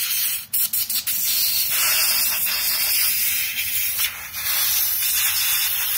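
Compressed air blasting dust out of a PlayStation 4 cooling fan, a loud, continuous close hiss after a few short bursts, briefly dipping once before resuming.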